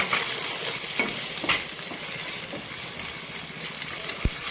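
An egg fries in a pan with onion and chopped chilli nearby, giving a steady close sizzle broken by occasional light scrapes and clinks of stirring. No one speaks.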